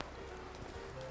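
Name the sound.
horse hooves cantering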